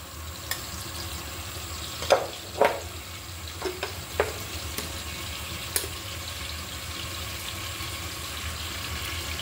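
Onion paste frying in a pan for a Bengali fish curry with tengra, bele and guilla fish, a steady close sizzle broken by a few sharp clicks and scrapes of a spoon against the pan.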